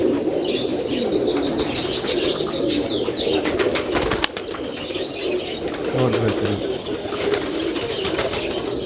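Teddy, Dubwale and Siyalkoti pigeons in a loft in Sharjah, UAE, coo in soft repeated low calls alongside chirps and a few wing flaps, with someone speaking briefly over them.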